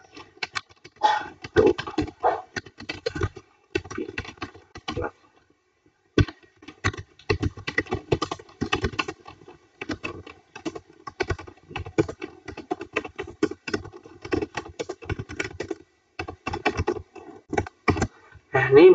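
Computer keyboard typing while entering a discussion title in a web app, a steady run of close, crisp keystroke clatter in bursts with a brief pause near five seconds.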